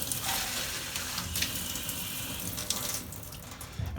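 Warm water runs from a tap to wash a trombone hand slide, giving a continuous hissing splash with a few brief shifts in the flow and no voices.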